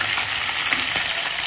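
Green chillies sizzle in hot oil for chitranna, a bright, loud, continuous hiss heard up close in a brief burst.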